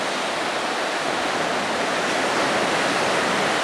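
Ocean surf at Manresa Beach in Aptos, California, below high cliffs, makes a loud, continuous broadband wash with no breaks and no voices.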